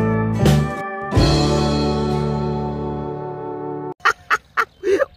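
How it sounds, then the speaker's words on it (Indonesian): A chicken crows loudly in long, drawn-out calls, followed by a quick series of short, clucking bursts close by. "Ada ayam juga"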